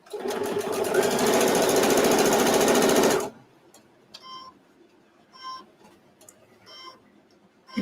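A sewing machine runs in one steady, loud burst of fast stitching for about three seconds, sewing fabric for a microwave potato bag, then stops, leaving faint clicks and light handling noises.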